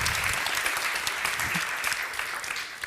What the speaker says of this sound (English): a big hand of applause for Milla